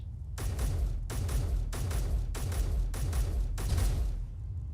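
Rifle gunfire at a ship in a space-engineering video game, heard as six sharp, evenly spaced bursts of rapid shots, loud and close, with a brief mechanical tail after each volley and no talking.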